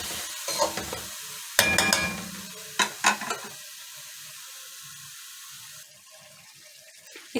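Palak gosht frying and being stirred in a pan: scraping spoon strokes and bursts of clattering stir in the first half over a steady, moderate sizzle that continues alone afterward.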